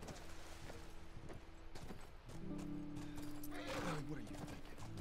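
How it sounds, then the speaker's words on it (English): Horses in The Last of Us Part II video game give a whinny amid hoof clatter and game ambience. The neigh is mid-distance and rises briefly near the end of the stretch, with some background sound around it. "It's nice seeing that the horses are still alive."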